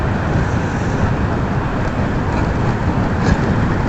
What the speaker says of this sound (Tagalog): Tumatalon-talon yung motor natin dito, guys.